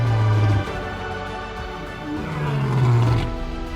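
Lions roar in the wild, with a loud deep sustained roar at the start and another rising, rumbling roar later, carrying powerfully over a noisy outdoor background.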